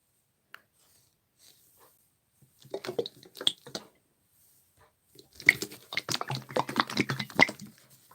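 Handmade slime squished by hand with wet, watery squelches and drips: a short cluster of close, moist squishes, a pause, then a longer, denser run of squelching, with no talking.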